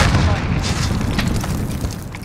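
A grenade explosion in the Warzone Resurgence video game gives a loud, dense boom with a rumbling low end. It is heard close up amid ongoing game noise with no clear speech.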